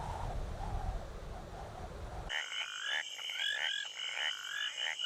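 Frogs and toads croak in a dense chorus, with loud, close, overlapping trilling calls that take over after a brief stretch of low rumbling background.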